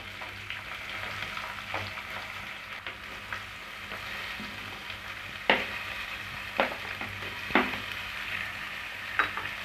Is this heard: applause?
no